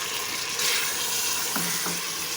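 Mutton pieces frying in masala in a pan give a steady, loud sizzle throughout, with a brief burst of stronger crackle near the start and a couple of short scraping stirs later.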